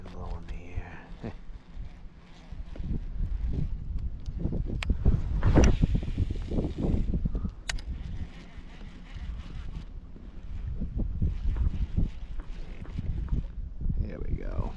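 Wind rushes and buffets the microphone out on an AutoPilot 120 fishing kayak, a steady roaring gust that swells and eases throughout, with brief murmured speech mixed in.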